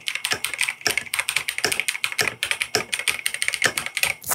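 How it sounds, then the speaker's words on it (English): Fast, steady typing on a transparent RGB keyboard, dense clacky keystrokes close up with occasional heavier thocks, no talking. "Typing ASMR starts now"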